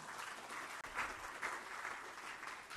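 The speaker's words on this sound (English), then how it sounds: "Applause to all of you." An audience at a talk on the philosophy of holy water applauds. The clapping is dense and moderately loud, swelling in several waves over nearly three seconds with a brief dip near the start.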